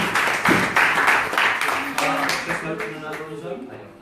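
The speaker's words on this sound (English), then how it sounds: "let's give them a big round of applause" An audience at a Sunday talk at ISKCON Newcastle temple claps for two guests in a short burst of applause that fades out as a voice continues talking over it.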